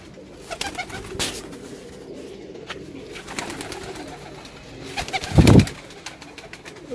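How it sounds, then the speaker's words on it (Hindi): Paired pet pigeons coo repeatedly at close range, soft throaty calls with a louder burst toward the end, and no talking. "जी ये उस्मान भाई के जोड़ों वाले कबूतर है।"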